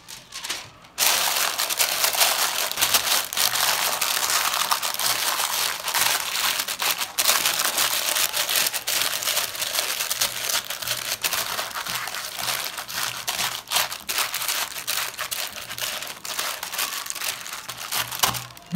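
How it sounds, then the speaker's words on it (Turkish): Baking paper is crinkled and pressed over the mouth of a pot being sealed for a slow-cooked tandir dish. It makes a dense, continuous close-up rustle and crackle that runs for a long stretch with no speech. "Şimdi bunun ağzını önden bir yağlı kağıtla kapatıyorum."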